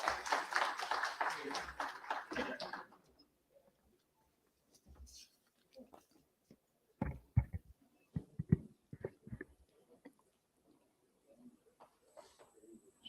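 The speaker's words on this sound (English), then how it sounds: "A big round of applause, ladies and gentlemen" Applause from a conference audience at an international logistics and supply chain event rises loudly at the start, then breaks off after about three seconds, followed by scattered taps, shuffling and murmured voices.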